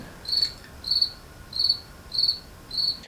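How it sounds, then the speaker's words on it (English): Steady, evenly spaced cricket chirps ring out nearby, five high trilled bursts roughly every half second, alone with no talking, in a space where a glued-on car window is being scraped off. "man, this freaking cricket."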